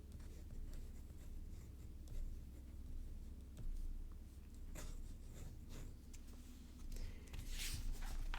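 A fountain pen nib glides over paper with pigment ink, giving a faint, soft, continuous scratchy hiss in short strokes, close up and quiet, with no talk.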